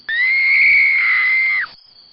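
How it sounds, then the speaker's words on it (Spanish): A girl's horrified scream, one sustained high piercing shriek lasting about a second and a half, loud and close, then cutting off into silence. "La pobre chica gritó,"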